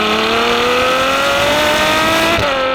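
A Ferrari F12 with its 6.3-litre F140 V12 accelerates hard, the loud engine note climbing steadily in pitch before a brief shift, heard up close with no talking.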